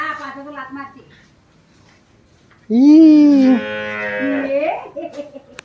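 A cow moos loudly and up close in a single long, drawn-out bellow, with people talking briefly before it and again just after it.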